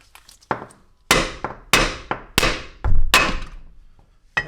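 Heavy hammer blows on a control arm bolt of an Audi B5 S4 during suspension work, six or seven loud metallic strikes at irregular intervals, each ringing briefly before the next, close up with no talking.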